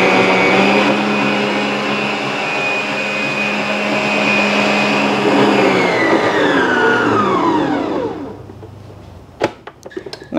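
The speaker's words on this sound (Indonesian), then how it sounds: "Kita lanjutkan kocok lagi" Electric hand mixer whisking egg whites until white for a three-color marble cake batter, a loud steady motor whir that winds down and stops near the end, followed by a few clinks.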